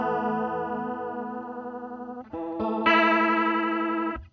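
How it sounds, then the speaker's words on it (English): Electric guitar run through a chorus effect pedal, sustained shimmering chords with a wobbling, doubled quality; one held chord gives way to a brief break and then brighter restruck chords, clear and upfront with no talking. "Similar tone, again, we'll switch back to our chorus."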